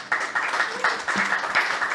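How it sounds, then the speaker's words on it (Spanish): A short burst of audience applause, many hands clapping together in a steady patter, moderately loud. "Señor Tomás, ustedes aplauden."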